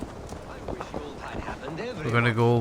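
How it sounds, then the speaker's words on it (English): In Assassin's Creed Valhalla, a horse's hooves clip-clop in a quick rhythm as the horse sets off. Someone talks over the hoofbeats. "Let's grab our horse and go for a little ride."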